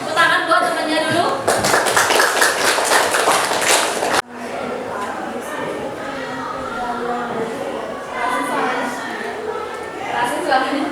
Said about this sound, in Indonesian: Tepuk tangan buat temannya dulu.